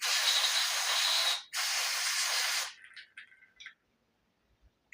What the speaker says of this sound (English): I'm hoping you guys can't see me spraying into my environmentally friendly receptacle here.